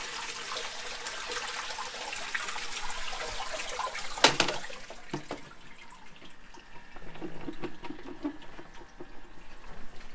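Water is drizzled gently into a planted aquarium, a soft continuous trickle and splash near the mic, with a brief louder splash partway through before settling into quieter pouring.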